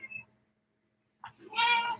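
A house cat meows indoors, one short call near the start followed after a pause by a louder, drawn-out meow that fills the second half, close to the microphone.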